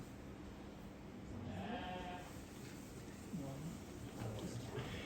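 Sheep bleat during a sheepdog demonstration in Ireland, several faint, wavering cries repeating over a low hum of outdoor background noise, one standing out more clearly partway through.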